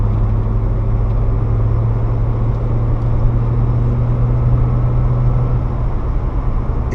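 A six-cylinder engine in a 1987 BMW 325is E30 drones smoothly and steadily from inside the cabin, a low even hum with road noise, no talking.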